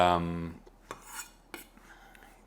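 A knife knocks on a chopping board with a few separate sharp taps spaced apart while finely chopping ingredients for a cheeseburger, coming after a brief tonal sound at the start, close and alone with no talking.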